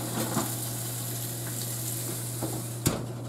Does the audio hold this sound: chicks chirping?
no